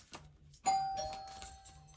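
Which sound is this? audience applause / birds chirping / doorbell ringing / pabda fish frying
doorbell ringing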